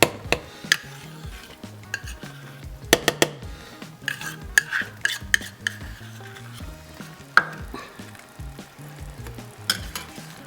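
Suji halwa with ghee and dry fruits is stirred in a pan: a spoon scrapes and clinks against the metal in irregular strokes and sharp knocks over a soft, continuous sizzle, close by and without talk.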